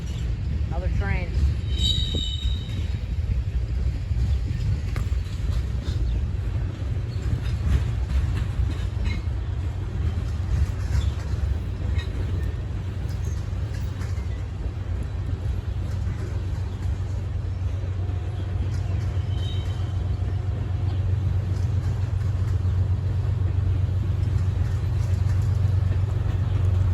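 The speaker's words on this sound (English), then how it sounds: "While Norfolk Southern 65T was still moving through Berea" Norfolk Southern freight train 65T rolls through Berea with a loud, steady low rumble of engines and cars that holds close for the whole stretch, with a brief high squeal of wheels partway through.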